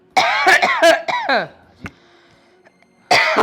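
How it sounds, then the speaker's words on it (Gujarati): A man's loud, close coughing fit of several harsh bursts, then a pause before talk resumes. "હજી ખાંસી સારી નથી થઈ"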